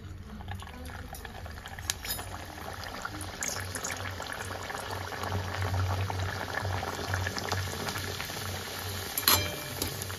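Pea-stuffed kachoris frying in hot white oil in a wok on a gas stove: a steady, close bubbling sizzle with scattered pops and crackles, and a brief metallic clink near the end.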